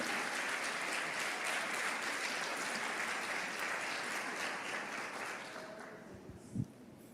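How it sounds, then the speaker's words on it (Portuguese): A church congregation claps in sustained applause, dense and continuous, gradually thinning toward the end with a faint voice and a brief thump near the close. "Dê um aplauso para o Senhor."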